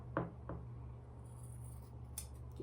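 Scissors cutting fabric for a sewing project, making a couple of faint snips near the start and a few soft scrapes later, very quiet over a steady low hum, with no talk.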